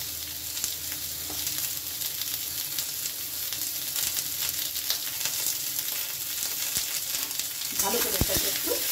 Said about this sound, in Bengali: ভালো করে এটাকে একটু ভেজে নেব।